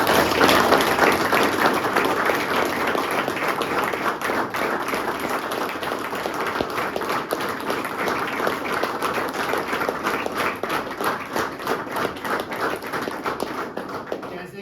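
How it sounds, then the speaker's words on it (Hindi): An audience at a sobriety and addiction recovery program gives sustained applause, a dense, steady clapping that stays fairly even throughout and tapers slightly toward the end. "एक बार दोबारा जोड़ो ताली दोस्तों"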